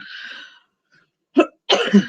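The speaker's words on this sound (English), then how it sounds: "Excuse me for my cough." A brief breathy exhale, a short pause, then a couple of harsh coughs close to the listener.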